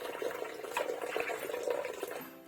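Spring water trickles and drips steadily into a catfish pond on a farm, a continuous close watery patter with small splashes, with no voices over it.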